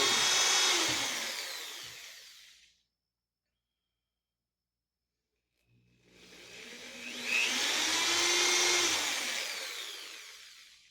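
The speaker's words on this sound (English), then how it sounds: "you can drill pilot holes." A power drill bores pilot holes down through a wooden workbench top into the leg, making two loud whirring bursts several seconds apart that rise and fall in pitch, with silence between them.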